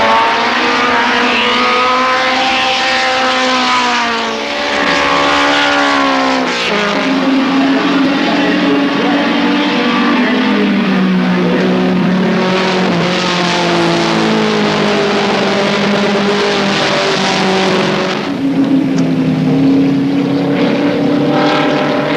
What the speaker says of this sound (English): team honour fell to Rex Greenslade, who diced throughout the race with Barrie Williams in his Magnum.